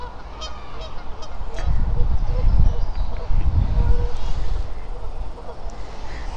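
Geese and ducks honk and quack loudly and repeatedly along a riverside path where people feed them, with rustling and a voice talking among the birds.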